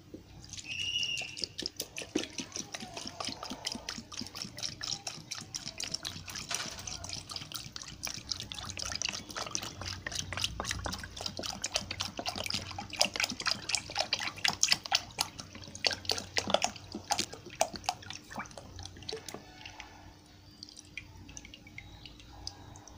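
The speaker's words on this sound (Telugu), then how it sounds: "జున్ను పాలు పోయాలండి. ఇదిగోండి బాటిల్ నేను పోస్తున్నాను." Colostrum milk poured from a bottle into a dish of crushed jaggery in a home kitchen, making a faint, uneven trickle with scattered drips and small splashes that goes on for about twenty seconds, with no talking.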